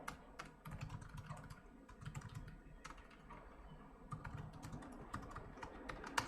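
Someone types a message on a computer keyboard, a quick uneven patter of soft clicks up close, fairly quiet and with no talking.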